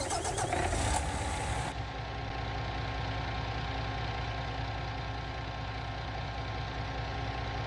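A truck engine in Farming Simulator 19 starts with a loud cranking burst, then settles into a steady, moderately loud idle that drones on alone with no talk.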